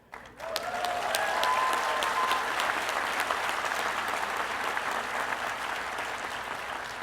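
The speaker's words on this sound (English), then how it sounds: "Let's give them a hand." An audience at the Reed College convocation breaks into sustained applause, a dense wash of clapping hands that starts abruptly and holds steady at full strength, with a few faint whistles early on.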